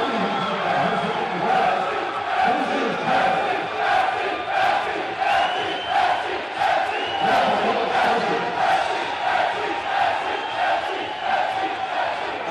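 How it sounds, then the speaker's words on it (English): A basketball crowd roars at the KCAC championship game, loud and sustained cheering and yelling that fills the whole stretch in waves, with no distinct speech over it. "Listen to this crowd."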